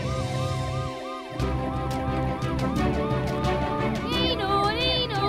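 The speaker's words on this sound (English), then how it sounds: "You can use the siren to alert everyone that you're rushing to an emergency." A cartoon ambulance siren in a children's story, a wailing, repeatedly sweeping tone that rises and falls, loud and close, with background music and children's voices mixed in.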